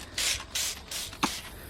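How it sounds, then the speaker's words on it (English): Garden sprayer misting plant leaves in a September garden, three short hissing bursts in a row followed by a brief thump, close and quiet with no talking. "I'm going to go ahead and give it a spray"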